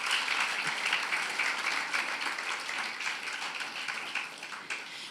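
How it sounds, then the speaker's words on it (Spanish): Church congregation applauding during a sermon, a dense, continuous burst of many hands clapping that holds steady and then tapers slightly near the end. "Vamos a darle un aplauso al Señor"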